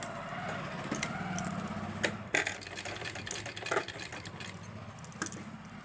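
A sewing machine stitches along the folded inner edge of a salwar hem, its steady mechanical whir running throughout with a few sharper clicks and bumps as the fabric is turned.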